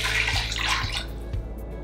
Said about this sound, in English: To this I'm gonna add water